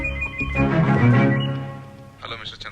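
A telephone rings in a Telugu thriller drama film scene, its bright ringing heard under someone talking and fading out over a few seconds.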